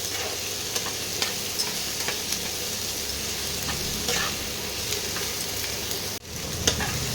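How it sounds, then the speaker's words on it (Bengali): Tomato and spices fry in a pan for a prawn dish, a steady sizzle broken by occasional stirring scrapes and a brief clatter near the end, with no talking. "এবারে টমেটো আর এগুলো সব মশলাগুলোকে ভালো করে একটু ভেজে নিতে হবে"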